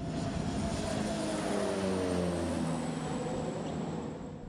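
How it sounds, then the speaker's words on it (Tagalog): A BFAR patrol airplane flies overhead on a maritime monitoring flight near Hoya Island, its steady propeller-engine drone sweeping past, loud and sustained with a shifting pitch, then easing slightly as it moves away. "Minonitor naman ng eroplano ng BFAR ang sitwasyon mula sa ere."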